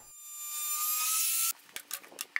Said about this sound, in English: then you can begin routing